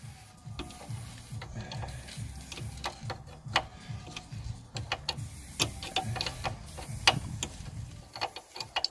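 A wrench unscrews a stabilizer bar link on a Peugeot 307, a quick run of close, rhythmic ratcheting clicks over a low mechanical hum.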